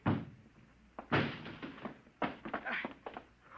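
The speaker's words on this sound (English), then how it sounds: "Break down the door." A door is battered and broken down in a 1950s-set film soundtrack, with a series of heavy thuds and crashing impacts, loud and close, separated by short pauses.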